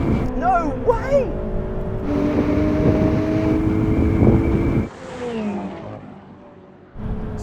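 Ferrari 488 Pista launching hard in a drag race against a McLaren 720S and Lamborghini Aventador SV, a loud, steady roar of engine and wind inside the car with a few rising revving tones, easing off abruptly near the end.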